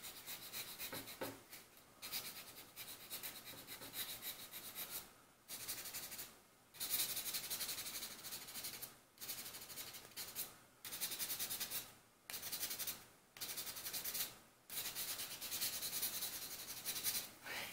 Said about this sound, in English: just sand it down